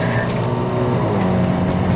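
A turbocharged 2015 Kia Cerato (K3) 1.6 SX with a bolt-on turbo drones steadily under boost on a mountain climb, a loud continuous engine and exhaust roar heard from inside the cabin without a break.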